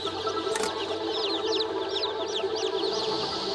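Dense chorus of high chirping chicks at a hatchery where they are vaccinated against Marek's disease, steady peeping throughout with a brief sharp noise early on.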